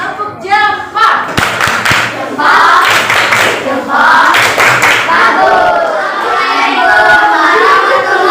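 A group performs a thumb-clap cheer, loud rhythmic bursts of clapping mixed with chanting voices, close and energetic throughout.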